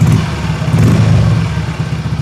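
A Yamaha Mio Soul i 125 scooter engine revs close by, a steady loud mechanical drone with a slight rise in pitch that stays constant for a couple of seconds, with no voices.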